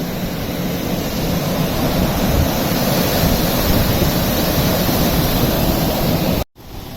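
Water rushing through an open paddle at Millbank lock on the Calder and Hebble canal, a loud continuous roar with wind buffeting the microphone, then a brief cutout near the end.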